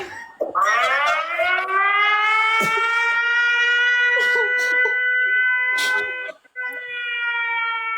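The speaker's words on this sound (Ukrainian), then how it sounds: "Увага! Повітряна тривога." Civil air raid siren wails loud and steady, rising at the start and then holding a sustained howling tone for several seconds with a brief dip near the end, while faint voices and thumps sound in the background.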